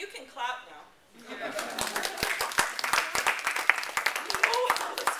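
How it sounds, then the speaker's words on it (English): An audience claps in a room, with scattered sharp individual claps building into moderate applause after a brief spoken moment at the start, some chuckling mixed in. "You can clap now."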